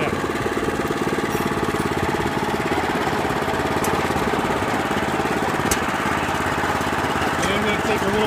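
Eurosystem RTT3 rototiller engine chugging at low RPM while cultivating at shallow depth, a steady loud rattling drone with a fast pulsing beat, continuous throughout.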